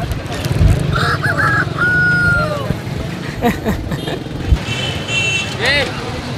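A rooster crows loudly nearby at a bird market in Saddar, Karachi, a long rising call, with voices talking and passing traffic in the background.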